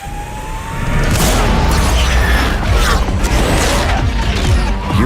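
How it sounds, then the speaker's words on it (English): Synthesized high-performance drive sound from a Hyundai IONIQ 5 N electric car, a loud, dense roaring rush with rising whine-like sweeps and deep booming pulses, sustained and intense throughout. "different high-performance sounds blasting out from both inside and outside."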